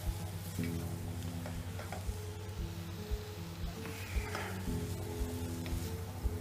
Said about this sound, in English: The key we look for when the onions are cooking is that they go a little bit transparent